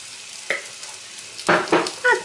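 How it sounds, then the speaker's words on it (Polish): A soft sizzle of small portions of potatoes frying in a pan, with a few scraping stirs and taps punctuating the steady hiss. "Kładziemy niewielkie porcje i smażymy, tak jak już wspominałam, z jednej i z drugiej strony."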